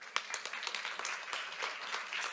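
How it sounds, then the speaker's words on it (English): Scattered, fairly quiet clapping from an audience greeting panel speakers at a coffee industry forum and dinner, short and thin rather than a full ovation. "A big round of applause for all of them."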